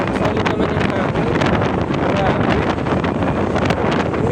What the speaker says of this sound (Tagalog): pero solid naman yung hangin.